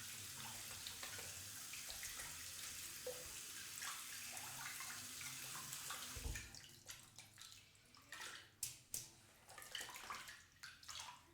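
Water runs from a kitchen sink tap in a steady, soft rush, then breaks into uneven splashes and gurgles as something is rinsed under it.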